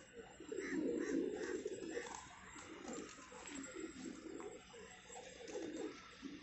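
Low, soft cooing of large fighter pigeons repeats steadily through the clip, mixed with other bird calls and a busy outdoor background.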